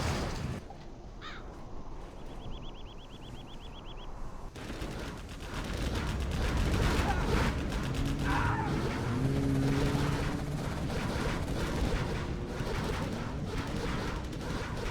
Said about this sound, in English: pcap continuing to harass Corey with his Inferno cannon